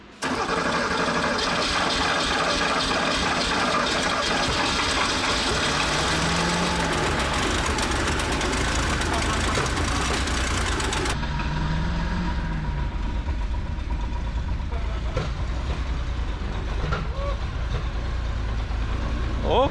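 An old Porsche 911 engine, sitting unused for twenty years, running steadily and loudly with a rough mid-pitched drone that changes character partway through, alone with no voices.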